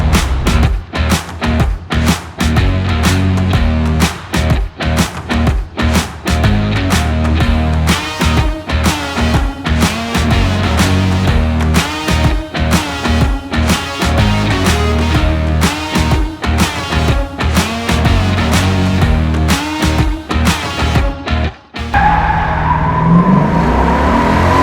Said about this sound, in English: No replacement for displacements. That 426 just wants to pull.